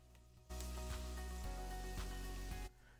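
Garlic and onions sizzle steadily in a hot pan for a Hungarian potato and sausage soup, a loud, even frying hiss that starts abruptly and cuts off after about two seconds.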